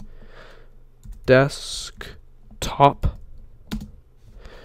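Typing a cd command on a Mac computer keyboard: a few sharp clustered key clicks and taps, close and clear, between spoken words.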